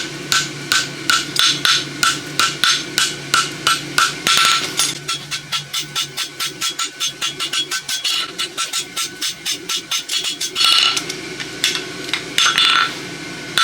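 Blacksmith hammering a hot steel horseshoe on an anvil while forging a small 1/2 by 3/4 inch roadster shoe, rapid, evenly spaced sharp ringing blows in bursts, close and loud, with short pauses between runs.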